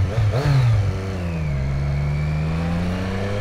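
A Chevrolet Camaro V6 engine revs hard in heavy traffic, a loud rising roar at first that settles into a steady, droning hum from inside the car.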